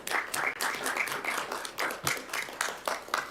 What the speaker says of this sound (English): Maybe we need to give her applause.